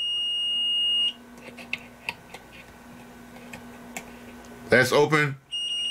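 A multimeter in continuity mode gives a steady electronic tone as its probes touch a fuse on a TV circuit board, followed by clicks and a voice, then the tone resumes near the end.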